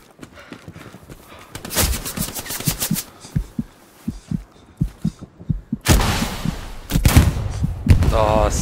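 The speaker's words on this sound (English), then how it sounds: "Oh, I was getting shot at." Gunfire in a war video game comes as a run of evenly spaced thumping shots, then louder cracking bursts and rattles later on, amid battlefield noise and occasional player chatter.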